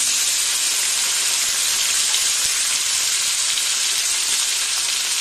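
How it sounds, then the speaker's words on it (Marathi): Vegetables such as cauliflower sauté in a pan for a veg Kolhapuri curry, giving a steady close sizzle with no talking. "भाजलेला मसाला थंड होईपर्यंत आपण भाज्या परतून घेऊ."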